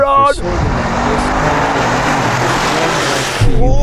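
A Cybertruck, a Rolls-Royce Cullinan and a new AMG G63 launch in a drag race, a loud sustained roar of engines and tire noise building together, with voices briefly at the start and end.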